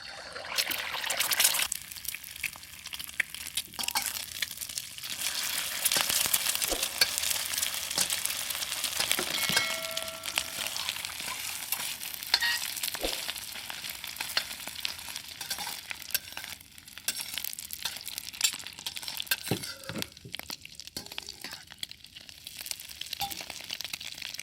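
An egg frying in very hot oil while making kimchi shrimp fried rice, a continuous crackling sizzle close up with scattered pops and light stirring scrapes throughout.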